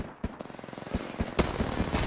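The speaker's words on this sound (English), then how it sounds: "That team is just shooting us" Rapid bursts of automatic gunfire from an enemy squad in Apex Legends, loud and close, with repeated shots in quick rhythmic volleys and a few sharper cracks throughout.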